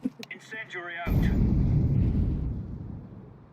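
An incendiary grenade going off in a spy video game, a sudden loud whooshing burst of flame that roars for about a second and a half, then fades. A voice speaks briefly just before it.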